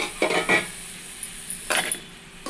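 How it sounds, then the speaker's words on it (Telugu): Ladle scraping and clinking against a pan while stirring mushroom egg curry, a few short metallic strokes with quiet gaps between, close and fairly soft. "మొత్తం కలిసేలాగా గరిటతో బాగా కలుపుకోవాలి"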